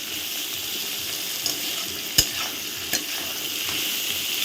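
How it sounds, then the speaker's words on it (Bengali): Mixed vegetables frying in a pan while being stirred, a loud, close, continuous sizzle broken by a few sharp scrapes and clacks of the spatula, with no voices. "দেখো অনেকটাই ভাজা হয়েছে আমি আরও একটু ভেজে নেব যতক্ষণ সবজিটা অনেকটা কমে আসে"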